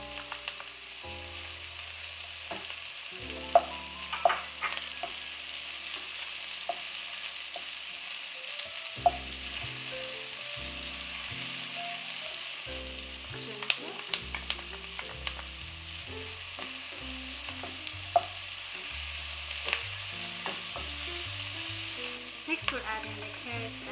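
Onion and garlic, seasoned with salt and pepper, sizzle steadily in an Instant Pot for chicken soup, a continuous close frying hiss broken by occasional stirring clicks and scrapes.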